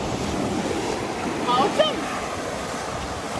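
Sea waves and wind rush steadily and loudly in a video game, a constant broad wash of surf with gusting wind noise, while a voice briefly speaks over it.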